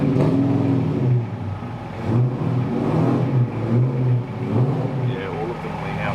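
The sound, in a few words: Toyota Surf engine revving on dyno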